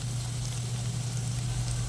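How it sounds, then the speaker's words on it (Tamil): Garlic sautéing in a pan for Tamil garlic kulambu (poondu kulambu): steady, even sizzling hiss with a low background hum, continuous and fairly close, no voices. "பூண்டு நல்லா வதங்கிடுச்சான் பார்த்துக்கலாம்."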